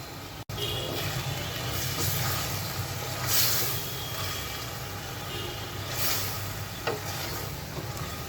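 Spice paste for a fresh tara baim fish curry fries in oil in a pan, a soft, steady sizzle with faint stirring scrapes, fairly quiet throughout and without talk.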